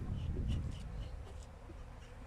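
Honey bees buzzing at a weak hive during colony equalizing work in late October, a low, steady, close drone that fills the clip without pauses or talk.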